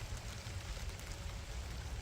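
Rain falls steadily outdoors, giving a soft, even patter and hiss at low volume with no talking.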